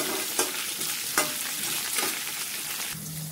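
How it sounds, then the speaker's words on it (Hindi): Green chili, ginger and curry leaves fry in a pan over low flame, a dense continuous sizzle broken by a few soft scraping stirs, close and steady, no talking. "सभी चीज़ों को बहुत अच्छे से हमको भून लेना है"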